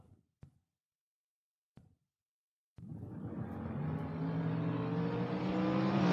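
A drag race between a Chevrolet Vega quick door car and a Dodge at a strip: after a few faint knocks and near silence, engines roar in abruptly and build steadily into a loud, rising revving launch.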